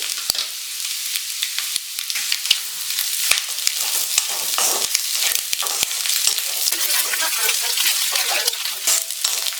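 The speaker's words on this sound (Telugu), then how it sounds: "ఈ 1 నిమిషం ఫ్రై అవనిద్దామండి" Vegetables for prawn fried rice fry in a hot pan, giving a steady dense sizzle throughout with frequent sharp clicks of a utensil scraping and stirring, close and fairly loud with no talk.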